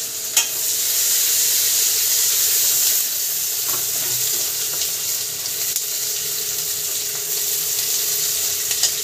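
Onions and green chilies frying in oil give a loud, even, close-up sizzle with faint scattered crackles and no speech.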